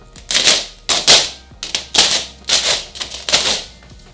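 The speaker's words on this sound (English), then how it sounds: "I'm going to put these magnets here just to hold it in place" Magnets set against a Lexus ISF car door during a rose gold chrome wrap, giving a series of sharp, close clacks and taps in an uneven rhythm, about eight hits, with no talking.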